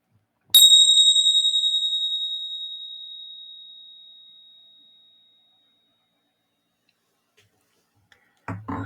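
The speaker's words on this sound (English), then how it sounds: "in a moment, I'm going to ring the bell." A single meditation bell is struck once and rings out as a clear, pure tone that slowly fades over several seconds into silence, followed near the end by a brief soft rustle.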